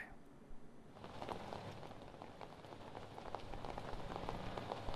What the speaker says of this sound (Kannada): ಕಳೆದ 2 ದಿನಗಳಿಂದ ಬೆಂಗಳೂರಿನಲ್ಲಿ ಸಾಕಷ್ಟು ಮಳೆ ಬರ್ತಾ ಇದೆ